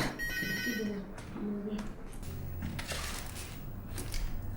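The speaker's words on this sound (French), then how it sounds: "Maya, tu peux répondre au téléphone s'il te plaît?" A telephone bell rings in a home setting, with repeated bursts over the first second or two, followed by household clatter and background noise at moderate loudness.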